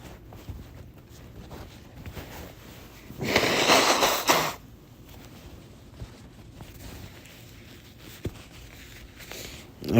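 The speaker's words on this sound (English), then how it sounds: "Blow my nose." A person with a runny nose blows it once, a short burst of breathy noise lasting about a second, close and fairly loud against a quiet room.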